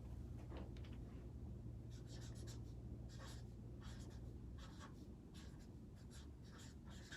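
Pen or pencil writing by hand on paper, a steady run of scratchy strokes in short bursts over a constant low background hum, close and fairly quiet, with no talking.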